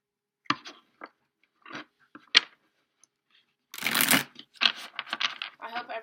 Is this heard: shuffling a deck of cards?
yes